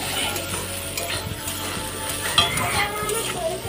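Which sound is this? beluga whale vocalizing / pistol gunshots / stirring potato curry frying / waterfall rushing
stirring potato curry frying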